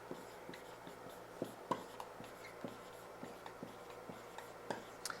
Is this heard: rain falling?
no